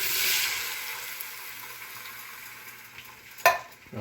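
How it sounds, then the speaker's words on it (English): Canned green beans and their liquid poured into a pot of cooked onion for minestrone, giving a steady broadband sizzle and hiss that fades slightly, with a brief clatter near the end. "We're going to add our green beans."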